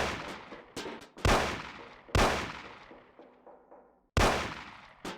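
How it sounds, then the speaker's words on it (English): Gunshots fired at cans on a table in the 2002 Windows game Mafia: several sharp, loud reports spaced irregularly, each trailing off in a short echoing decay. "Shoot the cans off of the table."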